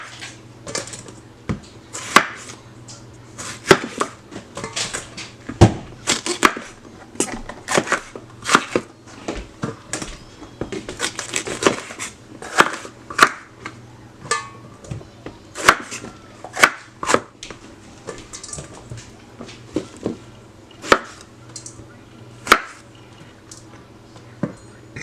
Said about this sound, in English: Also for the tomatillos, cut them.